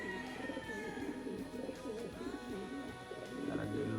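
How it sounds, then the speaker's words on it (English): Young pigeons coo steadily inside a freshly cleaned loft, a dense, overlapping murmur of soft throaty calls that continues without a break, fairly close and moderately loud. "Got a lot of good looking young birds in here today."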